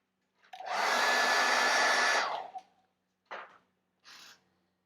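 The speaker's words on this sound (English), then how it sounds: "hit this with a hairdryer" A hairdryer blows steadily at close range on a painted miniature for about two seconds, then cuts off, followed by two brief shorter bursts.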